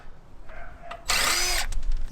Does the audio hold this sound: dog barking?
no